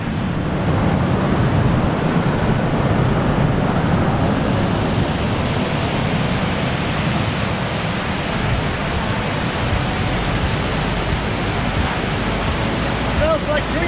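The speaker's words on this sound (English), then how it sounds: "Just got to the Kern River." The Kern River flows along the High Sierra Trail near Kern Hot Springs, a steady broadband rush of water that holds constant and fairly loud for the whole stretch with no break.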